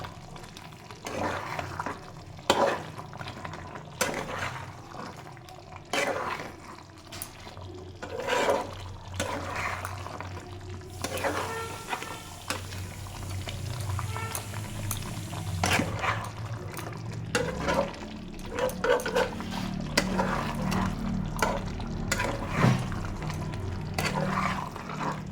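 Chicken rezala sizzles in a pan as it is stirred with Kashmiri red chilli powder, giving a continuous low frying hiss broken by repeated scraping and knocking strokes of the spoon against the pan.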